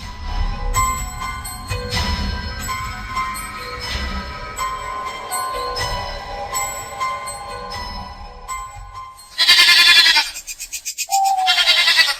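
Two goats bleat again and again at close range, loud wavering calls in quick succession, and louder, higher bleats come near the end.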